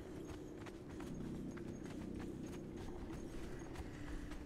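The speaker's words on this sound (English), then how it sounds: "I'm going to grab my horse over here" Horse hooves clip-clop steadily in a fantasy video game, a regular walking rhythm of soft, moderately close hoofbeats with no talking over them.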